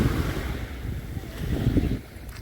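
Waves wash onto a Caribbean beach at Puerto La Cruz, Venezuela, in a steady rushing surf blended with wind noise against the microphone, with nobody speaking.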